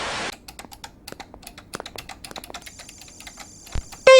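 Fast keyboard typing on a computer while playing the video game Mario Teaches Typing: rapid, irregular key clicks close up, followed by a brief electronic game tone and a sharp sound at the end.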